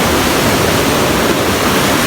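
Kulaman waterfall near Mt Sapinit pours with a loud, dense, unbroken roar of rushing water heard up close.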